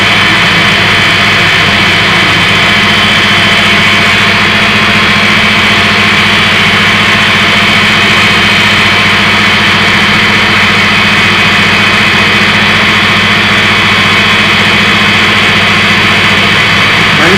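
A running generator engine drones steadily and loudly for the whole stretch, its hum holding an even pitch with no change in speed and no voices.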